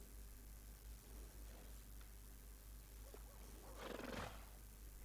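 A horse whinnies in Red Dead Redemption 2 over a steady low hum of game ambience, the loudest burst of the call rising near the end of the short stretch.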